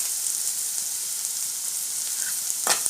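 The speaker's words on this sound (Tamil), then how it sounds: "வெங்காயம் நல்லா வதங்க விட்டுடலாம் வெங்காயம் வதக்கிறதுக்குள்ள வெங்காயம் கூடவே நம்ம வந்து கருவேப்பிலையும் போட்டுக்கலாம்" Onions sautéing in a pan with curry leaves, a steady hissing sizzle heard close up, with a brief sharper crackle near the end.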